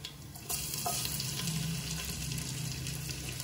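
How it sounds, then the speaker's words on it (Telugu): Chopped ginger hits hot ghee with cumin seeds and breaks into a sudden, busy sizzle after a quiet half-second, then keeps crackling steadily and close, without talk. "జీలకర్ర వేగాక 1 ఇంచ్ అల్లాన్ని ఇలా ముక్కలు కోసి వేసుకోండి."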